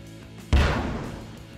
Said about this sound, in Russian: Ну, как петарда какая-то взорвалась.